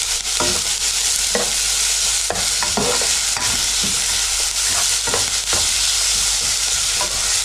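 Garlic and onions sizzle steadily in a hot pan for a Venezuelan pisca andina soup, a loud continuous frying hiss broken by repeated scraping stirs of a utensil.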